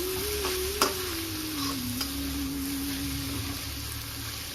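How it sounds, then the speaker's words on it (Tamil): Cluster beans stir fry being stirred in a pan with a ground peanut, dried chili and garlic mix, a steady soft sizzle with occasional scraping and clinks of the spoon. "இப்போது பொரியலில் போடணும். போட்டு நல்லா 2 நிமிஷம் கலந்து"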